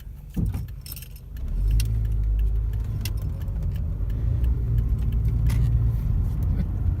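A car driven on a test drive right after its serpentine belt was replaced, with steady low engine and road rumble throughout, a few brief jangling clicks near the start, and no talking.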